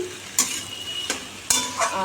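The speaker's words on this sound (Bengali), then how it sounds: "এখন বসিয়েছি ঢ্যাঁড়স আর আলু ভাজা" Okra and potatoes fry in a pan with dried red chilli and nigella seeds, a close, steady sizzle broken by three sharp spatula knocks and scrapes against the pan.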